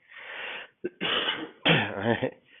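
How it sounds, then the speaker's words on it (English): A person coughs several times in quick succession. Three harsh, throaty bursts come close to the microphone with short pauses between them. "I wouldn't have made this video if I know I was going to be coughing the whole way through"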